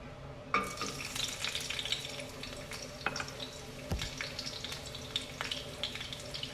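Chicken wings frying in olive oil in a pan, a faint steady sizzle with occasional stirring clicks and scrapes.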